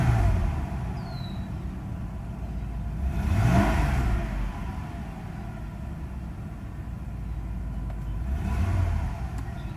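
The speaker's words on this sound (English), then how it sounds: "the car hasn't been started in like maybe a week, so that's acceleration" Mercedes S320 engine after a cold start, the car unstarted for about a week: steady idle rising into two swelling throttle revs that fall back, close and clear with no talking.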